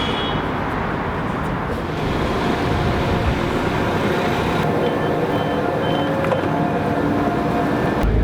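A London Overground train arrives at a station with a loud, steady rumble and roar that holds throughout, with faint high tones sounding over the noise.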